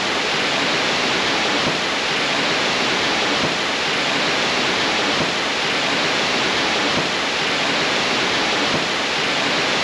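Steady, loud rush of falling water from waterfalls at a Las Vegas resort, a continuous broadband roar with no voices.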